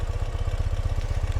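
A 2017 Ural cT motorcycle engine idles close by with a low, even, rapid thumping pulse that stays smooth and steady throughout.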